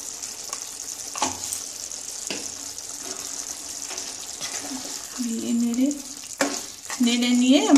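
Meat curry with garam masala stirred in a pan makes a steady, close sizzle with scraping strokes, growing louder toward the end, where brief voice-like hums rise over the frying.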